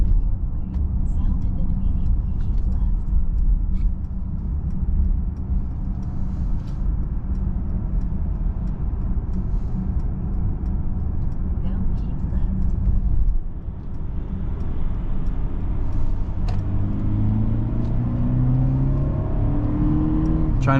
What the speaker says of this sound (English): Trying to accelerate on the highway, we got all the power we need.